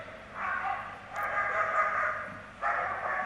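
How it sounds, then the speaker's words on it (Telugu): A female German Shepherd police tracker dog from a city security wing barks in a few short, fairly close bursts separated by brief pauses. "సిటీ సెక్యూరిటీ వింగ్ విభాగానికి చెందిన డాగ్ ఇది"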